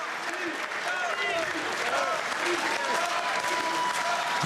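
A crowd applauds at a boxing match, the clapping steady and dense throughout while a commentator talks over it.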